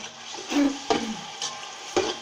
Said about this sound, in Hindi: तो प्याज फ्राई हो रहा है